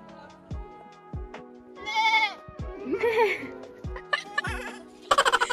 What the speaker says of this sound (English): Look at this small goat.